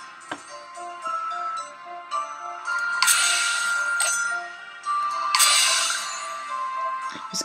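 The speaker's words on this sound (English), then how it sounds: "Miss Agatha Rayleigh always brings the bell to these things." A bell rings in a Sherlock Holmes mystery game scene, bright repeated metallic tones over several seconds with two louder shimmering bursts, fairly close and loud, no speech over it.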